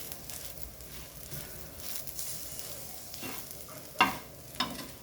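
Soybeans and curry leaves fry in a pan with a steady low sizzle, punctuated by a few louder stirring scrapes near the end, close and without talk.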